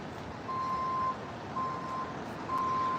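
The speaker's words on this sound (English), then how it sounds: "Beep, beep, beep." A truck reverses on a New York City street near Central Park, its backup alarm sounding three steady electronic beeps spaced apart over constant low traffic hum.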